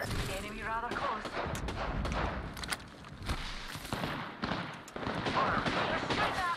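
Enemy gunfire in Apex Legends, rapid bursts of shots cracking irregularly through a busy firefight, mixed with nearby game noise and a talking voice.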